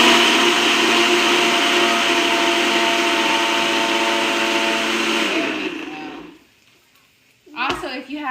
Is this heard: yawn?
no